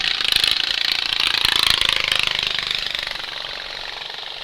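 Small racing lawnmower engines rev loudly and rasp continuously at a trackside lawnmower race in Western Ontario, the buzzing roar swelling then easing slightly as it goes on.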